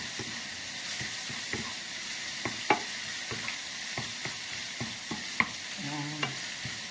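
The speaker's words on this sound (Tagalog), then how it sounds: "Piniprito natin kasama ng bawang." Fish fries with garlic in a pan, a soft steady sizzle broken by repeated scraping and stirring clicks from a utensil, close and fairly quiet, with no talking.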